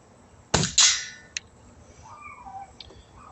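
An Umarex Ruger Mark IV pellet pistol fires a single sharp, loud crack up close, followed a moment later by a second metallic clack and a faint click, then a quiet room tone.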